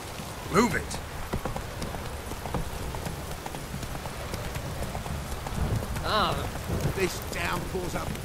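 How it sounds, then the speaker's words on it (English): Heavy rain pours steadily in The Witcher 3 as horse hooves clop beneath it, with a voice speaking briefly within the continuous wet hiss. "This downpour's a bastard, it is."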